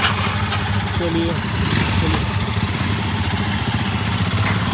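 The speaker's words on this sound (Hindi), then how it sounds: "दिस इज डे 1, ये बाइक जा रही है।" Motorcycles on a Spiti bike tour rumble steadily as the riders set off from Bhuntar, a continuous close engine drone under brief talk.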